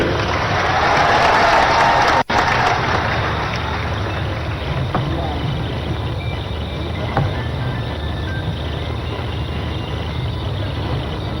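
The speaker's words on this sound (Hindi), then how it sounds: "उनका बहुत प्यार से तालियों से स्वागत करिए श्रीमती ज्योतिरादित्य सिंधिया जी।" A crowd at an outdoor political event in Hat Piplya, Dewas, claps continuously, a steady wash of applause that carries on without pause, with a brief sharp knock early on.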